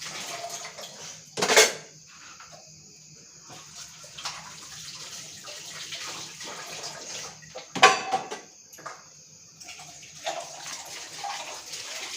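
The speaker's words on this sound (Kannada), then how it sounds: "ಅಡುಗೆ ಮಾಡ್ತಾನೆ ಪಾತ್ರೆಲ್ಲ ತೊಳ್ಕೊಬಿಡ್ತೀನಿ" Pots, pans and dishes are washed under running water, with soft clinks and scrapes and two sharp metallic clatters standing out against the quiet, close trickle.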